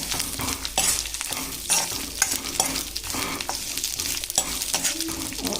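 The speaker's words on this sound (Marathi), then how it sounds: "आता आपला तेल गरम तर आपण आहे लसूण याच्यात टाकून देऊया" Chopped garlic sizzles steadily in hot oil over a lowered gas flame, with repeated close scrapes and clicks of a spatula stirring the pan throughout.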